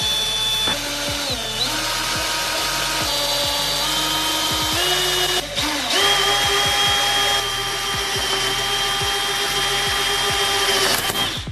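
A power drill bores through the middle of a seized, split Torx bolt on an Audi TT Mk2 8J, a loud steady whine that bogs and shifts pitch as the bit bites, running continuously and close with brief dips.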